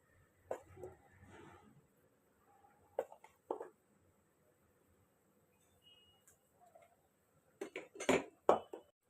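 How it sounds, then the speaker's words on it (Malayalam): Kashmiri chilli powder mixed with a spoon in a bowl for mango pickle, sparse scraping and clinking strokes in short bursts with long quiet gaps, ending in a cluster of louder clinks. "ഇനി ഇതിലേക്ക് ആവശ്യമായിട്ടുള്ള പൊടികളെല്ലാം നമുക്കൊന്ന് മിക്സ് ചെയ്തെടുക്കണം"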